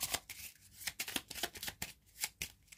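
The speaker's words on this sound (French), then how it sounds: "Je vais tirer un arcane majeur du tarot pour compléter le tirage des charms." Tarot cards handled and drawn from a deck during a reading, a quick run of papery flicks and slaps in an uneven rhythm, close and fairly loud, with no voices.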